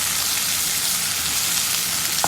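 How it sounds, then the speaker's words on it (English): Masala for a Kerala fish biryani frying in a pan, a loud, continuous close-up sizzle with a brief stirring scrape near the end. "About 8 to 10 minutes of this entire masala cooking together."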